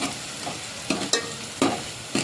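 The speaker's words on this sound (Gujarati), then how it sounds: "ડુંગળી ચડી જાય ત્યાં સુધી હલાવવાની છે" Onions fry over low gas in a pan for a potato-spinach sabzi while a spoon stirs them, with about four distinct scraping strokes over a continuous soft sizzle and no talking.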